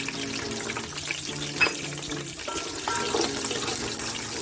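Shallots and green chillies fry in hot oil in a pan, a steady close sizzle with a few stirring scrapes and bubbling pops, and no one talking over it.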